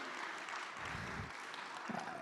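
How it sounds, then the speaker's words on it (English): Audience clapping at a library book event, a soft, fairly distant patter of many hands that stays even throughout with no speech. "while we're applauding, I guess we can applaud the Canada Reads Committee at the library"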